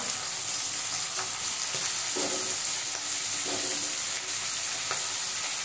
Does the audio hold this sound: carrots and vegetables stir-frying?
yes